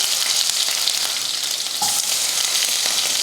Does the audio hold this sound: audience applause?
no